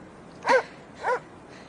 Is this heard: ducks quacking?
no